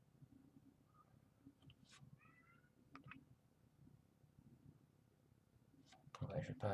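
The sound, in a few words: the speaker's cat meowing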